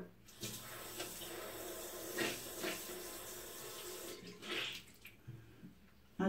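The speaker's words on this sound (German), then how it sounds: "Ich muss mal hier Wasser anmachen." A bathroom or vanity tap runs steadily, a soft continuous rush of flowing water with small splashes and clinks, fairly faint and heard on its own.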